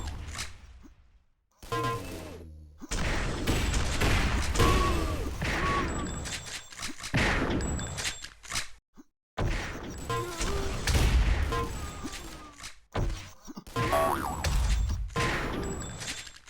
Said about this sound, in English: These follow-up rifles are killers for Plata.